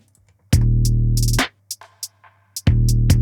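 Produced drill beat drums in Studio One, heavy booming 808-style hits with sharp percussive taps between them, washed in room reverb and echo, loud and alone in a sparse, punchy rhythm.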